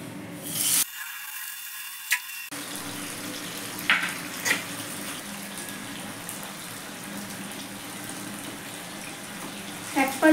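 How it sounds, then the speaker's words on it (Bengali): Bele fish frying in hot oil in a pan, a steady close hiss and sizzle that carries on with small pops and spatters, and no talking. "এই তেলে আমি মাছগুলো ভেজে নেব।"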